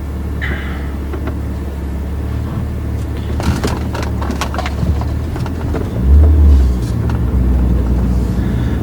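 A car pulls away on a steady drive, with a low continuous engine and road rumble heard from inside the cabin, a brief surge of louder rumble partway through and a few light interior clicks.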